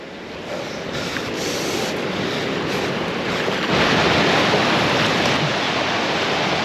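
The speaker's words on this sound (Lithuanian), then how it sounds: "Bangos kitoj pusėje piktos." Steady roar of sea waves breaking nearby, continuous broadband surf with wind buffeting the microphone, no voices.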